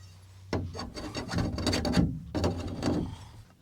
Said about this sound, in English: Probably get a little razor blade and scrape the rest of it off.